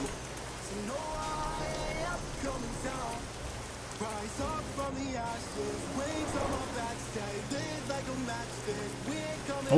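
Steady rain pattering in Euro Truck Simulator 2, a continuous wash of drops on the truck that runs evenly throughout, with engine hum and someone talking over it.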